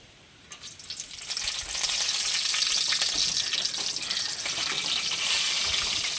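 Curry leaves dropped into hot oil in a pan for a Kerala-style curry burst into a loud, crackling sizzle that swells within the first second and then holds steady and close.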